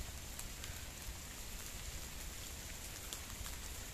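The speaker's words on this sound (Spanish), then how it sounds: "Está lloviendo bien ahorita aquí en Acapulco, Guerrero" Steady rain falling during a storm in Acapulco, Guerrero, a constant soft hiss of drops on surfaces, moderately faint and even throughout with no voices.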